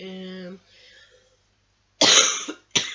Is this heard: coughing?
yes